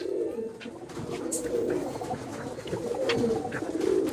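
Madrasi pigeons cooing steadily in a loft at Ichhapur, Kolkata, a continuous low murmur of overlapping coos from several birds close by, with a few brief higher chirps scattered through.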